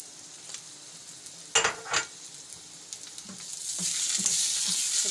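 Onion, tomato and spices frying for piyaz karela, with two sharp clanks of a utensil against the pan before the sizzle swells louder and stays constant.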